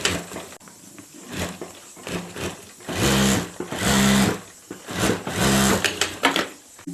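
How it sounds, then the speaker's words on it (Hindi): A sewing machine runs in several bursts of rapid stitching, sewing a folded pocket seam on a handbag, with short pauses and small handling noises between runs; no voices. "और अब इसको इस तरह से फोल्ड करके यहाँ एक ऊपर सिलाई कर देनी है हमें यहाँ"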